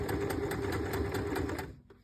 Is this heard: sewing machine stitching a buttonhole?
yes